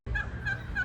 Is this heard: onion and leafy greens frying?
no